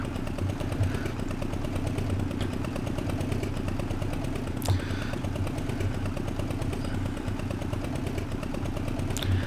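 An old John Deere tractor pulling a big trailer in Professional Farmer 2014 chugs with a steady loud mid-pitched engine drone and rhythmic putter, constant and close for the whole stretch.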